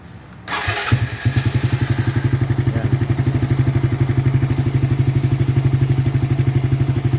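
A recovered motorcycle with a flat slide carburetor cranks and fires up, then settles into a close, loud, steady idle with a rapid even thumping beat that continues alone to the end.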